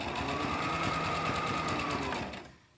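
A sewing machine runs steadily stitching a zigzag seam on a fabric mask, a continuous close mechanical whir that stops abruptly near the end.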